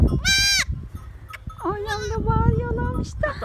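Newborn goat kids bleating up close, a sharp high bleat followed by a longer wavering cry and a shorter one at the end, loud and clear over background noise.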